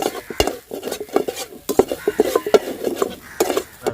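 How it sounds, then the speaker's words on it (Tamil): A spoon stirs shark puttu dusted with pepper powder in a pan, making close, repeated metallic scrapes and taps in an uneven rhythm over a soft sizzle, with no talk. "சும்மா மேலே கொஞ்சமாக பெப்பர் பொடி ஆஃப் ஆயிலில் போடுறாப்புல போட்டு நல்லா கிண்டிக்கிறோம்"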